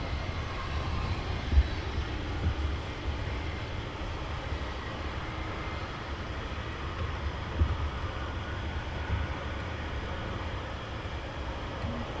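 A business jet taxis at Luton Airport, a steady low engine rumble at a distance with broadband noise and no clear change in level.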